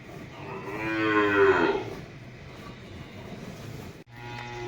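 A cow gives one loud, drawn-out moo close by at milking time, followed by quieter low background noise.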